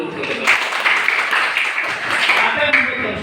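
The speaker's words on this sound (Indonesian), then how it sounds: "Tepuk tangan dulu." A group claps together in a steady, dense burst of applause that holds for about three seconds, fairly loud and even throughout.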